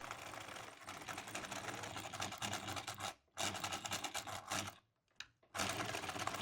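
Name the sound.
sewing machine stitching pockets onto linen pants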